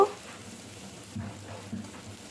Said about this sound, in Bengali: পেঁয়াজ এবং কাঁচা লঙ্কাটা একটু ভাজা ভাজা করব